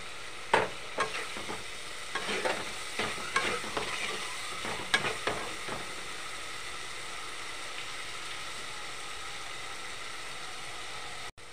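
Tomato paste frying with mutton curry, a cluster of scraping stirs and clinks over the first half, then a low steady sizzle that carries on alone, fairly quiet, no talk.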